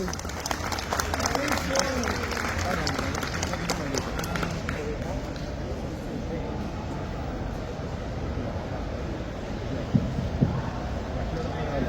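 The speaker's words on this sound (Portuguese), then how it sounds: "quero que vocês recebam aqui ao palco com muitas salvas de palmas, Vitor Akira Sato, por favor!" A crowd claps and cheers in a steady, dense wash of applause that carries on throughout, with voices mixed into the noise.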